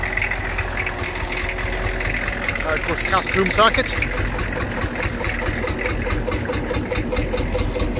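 Vintage tractors, including Ferguson models, drive past at a steam rally on an old airfield circuit at Castle Combe, a steady mid-to-low engine rumble with a brief louder pass, under continuous talk.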